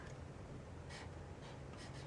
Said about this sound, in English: I'm going to take my black marker and I'm going to write on my cloud